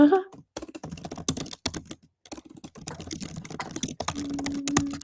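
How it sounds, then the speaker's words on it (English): Typing on a computer keyboard during a live online academy session, a steady run of quick clattering key presses with brief pauses, close and fairly loud, with a few faint voice sounds in the background. "You're typing over there."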